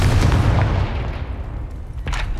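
A Confringo spell blast in the video game Hogwarts Legacy, heard as a loud, close, booming burst with a rumbling, fiery rush that fades into a dull roar.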